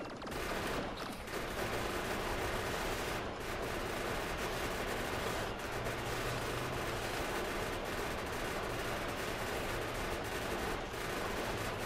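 Automated turrets in Factorio fire in continuous rapid bursts, a dense rattling barrage that keeps going throughout, mixed with game noise and no voices.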